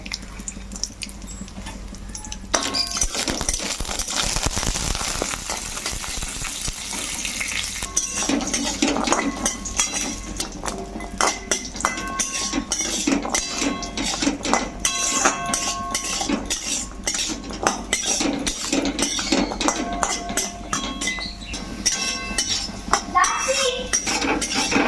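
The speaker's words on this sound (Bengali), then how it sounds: "এরপরে কাজু আর কিশমিশগুলো একটু ঘির মতো ভেজে নেব" Cashews and raisins fry in ghee in a pan, a continuous sizzle broken by frequent metallic clinks and scrapes of a spoon against the pan.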